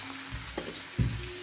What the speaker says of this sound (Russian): Картошечка жарится.